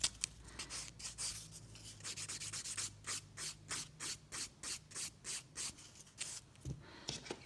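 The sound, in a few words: nail buffer removing acrylic or gel residue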